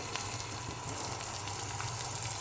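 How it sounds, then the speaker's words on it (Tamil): Tomatoes sautéing in a pan for Turkey berry kuzhambu, a soft, steady sizzle with faint watery crackle running evenly throughout, fairly quiet and with no voices. "தக்காளி நல்லா வதங்கட்டும்."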